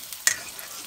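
A brief sizzle of onions frying in hot oil at home, with a single stirring scrape of a spoon in the pan.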